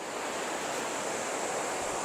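The Kosi river rushes below the Garjiya temple near Ramnagar, Uttarakhand, as a steady, dense hiss of flowing water with no breaks.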